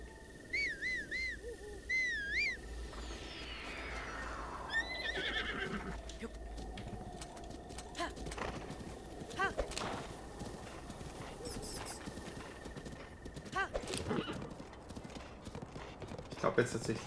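Horse hooves clip-clop steadily through stone corridors in Zelda: Breath of the Wild, with several neighs and whinnies near the start, game music tones and effects layered over it, and someone talking throughout.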